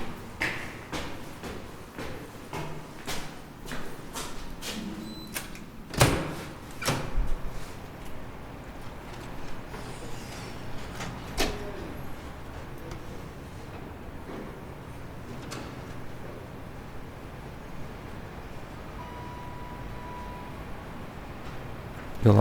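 Doors clacking shut, latches and thuds at building entrances with their security systems, sharp knocks repeating every few seconds, strongest early on, over steady indoor room noise and soft background murmur.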